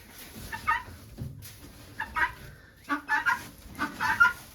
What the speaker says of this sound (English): So now we just make sure all the chickens are in the coop for the night.